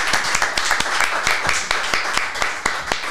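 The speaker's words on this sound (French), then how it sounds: "Bah écoute, on t'applaudit." Brisk, uneven clapping from a small audience of people, sharp individual hand claps rapidly repeating for about three seconds, close and fairly loud, with faint voices underneath.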